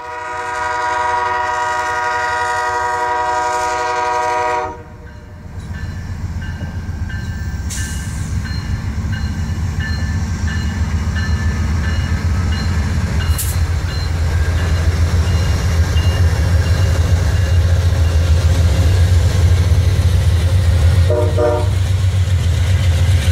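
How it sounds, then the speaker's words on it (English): A train runs along a railway, loud and close: a steady horn blast for the first few seconds, then a sustained rumble and clatter of passing cars for the rest, with no talk. "Now it's time for some train porn."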